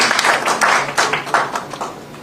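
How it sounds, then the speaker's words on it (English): An audience at a felicitation function applauds dignitaries with a short burst of uneven, fairly loud clapping that fades slightly toward the end. "please give a round of applause to all the dignitaries present on the day of the day"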